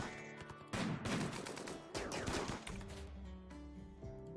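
Gunfire in the video game RimWorld during a raid defense, a dense burst of overlapping shots followed by scattered single cracks and fading echoes, fairly quiet overall.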